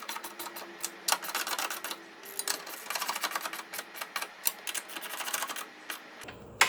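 A ratchet clicks in rapid bursts while tightening gearbox mount nuts on a mk2 Ford Focus. The close, dry clicking repeats in quick runs with short pauses, and no one speaks.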